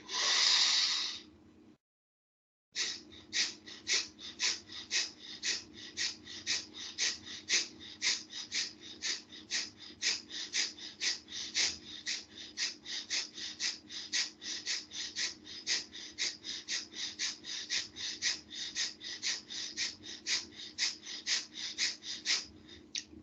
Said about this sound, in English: inhale, exhale, inhale, exhale. Now naturally, refill your lungs and we'll go for another round.